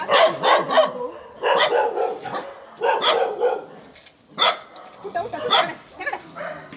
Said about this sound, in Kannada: ಬ್ರೀಡ್ ನಾಯಿ, ಲ್ಯಾಬ್ ಬ್ರೀಡ್